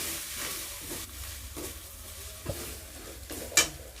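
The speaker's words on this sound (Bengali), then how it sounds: "পেঁয়াজ আদা একসাথে ভেজে নেব" Onion and ginger fry with turmeric, chili and cumin powder in a pan: a soft sizzle under a utensil scraping and stirring in several strokes, with a brief metallic clink near the end.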